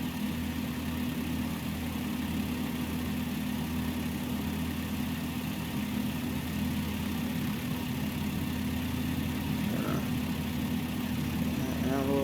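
Simulated small airplane engine in Microsoft Flight Simulator throttling down near a grass airstrip on a lake, a steady low droning hum holding fairly level throughout.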